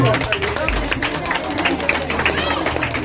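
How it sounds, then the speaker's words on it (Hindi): Applause and cheering from an audience at a school Independence Day program, honouring a student named Suraj after his recitation, a dense steady wash of clapping and crowd noise filling the whole stretch. "तो जोरदार तालियां हो जाए सूरज के लिए"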